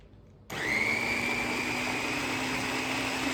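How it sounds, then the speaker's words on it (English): Food processor whips cooled green jalapeno salsa, switching on abruptly with a loud, steady motor whine that runs on without pause, no talk over it. "I'm gonna put them in this food processor."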